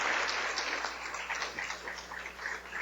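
An audience at a conference applauds to welcome speaker Luis, a steady, fairly soft wash of many hands clapping with no voices over it.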